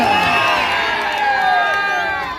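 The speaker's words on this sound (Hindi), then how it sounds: "जोरदार तालियां जी जोरदार तालियां" Spectators at a Gujjar Kabaddi Club kabaddi match cheer and shout loudly in a continuous mass of raised voices, with applause mixed underneath, sustained for a couple of seconds.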